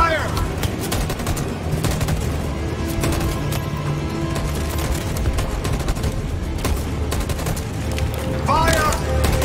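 Rapid gunfire from a firing squad in the video game Detroit: Become Human rattles in dense overlapping volleys, loud and continuous for several seconds. Voices are heard briefly near the end.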